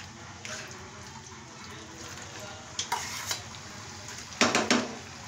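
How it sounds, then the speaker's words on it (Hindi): Mawa is stirred into thickened sugar syrup in a pan for mawa burfi, a soft sizzling with scraping strokes and a few louder clinks of the spoon against the pan, with no talk. "और मावा डालने के बाद भी हमें इसे लगातार चलाते रहना है"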